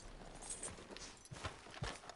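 Horse hooves clip-clopping at a walk in the Red Dead Online video game, faint, irregular thuds spaced a few per second with no talking over them.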